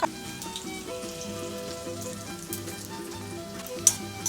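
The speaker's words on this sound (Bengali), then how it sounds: "লাচ্চার জন্যে আমি এক চামচ ঘি দিয়ে কাজু কিশমিশটা একটু ভেজে নেব" Cashews and raisins fry in a spoonful of ghee with a soft, steady sizzle, low-level crackle, and a couple of small pops toward the end, heard alone without talk.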